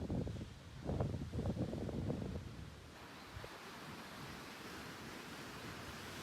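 Ocean waves at the Galapagos Islands wash in as a soft, distant surf, a brief swelling rush early on that settles into a steady, hissing wash mixed with wind noise.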